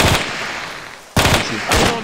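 Loud, close gunfire in the military shooter Arma 3, a short automatic burst at the start followed by two more clattering bursts after a brief lull.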